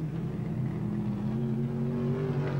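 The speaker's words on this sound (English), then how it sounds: "Race leader, running on a sick engine at the moment, is Rod Fraser" Modified rod race cars roar around a speedway track in a Newcastle heat, one engine running rough, with a loud sustained drone and a slowly rising pitch and no speech.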